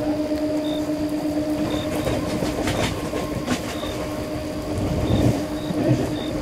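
A Howrah–Katwa local train runs steadily toward a bridge, its continuous close rumble laced with rhythmic wheel clatter and a steady tonal hum, with no voices.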